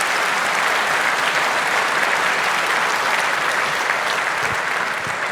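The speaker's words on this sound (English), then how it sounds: "another round of applause" A conference audience at a technical talk on Wi-Fi and the ESP32 gives a loud, sustained round of applause, thick and unbroken across the whole stretch, with no talking over it.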